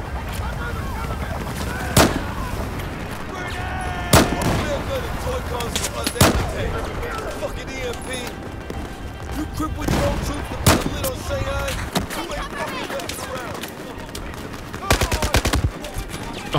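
Battlefield 4 campaign combat brings sharp, loud single shots at regular intervals and bursts of automatic fire over a chaotic battlefield, with people talking throughout.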